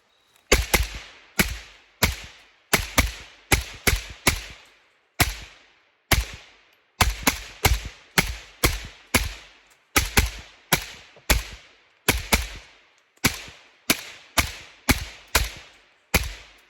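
A suppressed AK rifle fed from an Xtech Tactical magazine fires a long string of sharp, clipped shots in quick irregular pairs and bursts, each followed by a brief metallic ring, close and loud with no talk.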